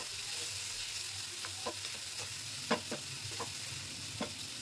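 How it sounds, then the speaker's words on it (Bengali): Onions fry in a pan of hot oil for a prawn bhuna masala, giving a steady close sizzle while a spatula scrapes and taps the pan every second or so. No voices are heard. "আর একটু সুন্দর করে পেঁয়াজগুলোকে ভেজে নেবো বন্ধুরা।"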